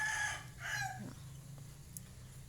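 Chickens in a home yard give a couple of near, clear clucking calls over a low steady hum, then fade to quiet.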